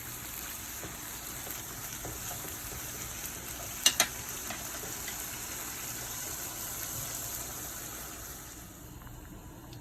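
Steady sizzling of ground beef frying in a pan, a constant crackling hiss with a couple of brief clanks from a utensil partway through.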